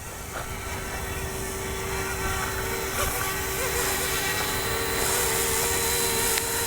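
An F06 beginner RC helicopter flying in little circles in optical flow mode, giving a steady, continuous rotor and motor whine at even loudness throughout.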